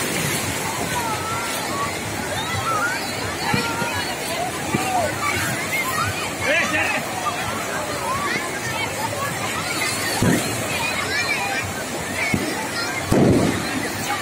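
River waves slosh continuously at a crowded Chhath festival bank while children play in the water, with dense crowd chatter and babble throughout and a few louder splashes toward the end.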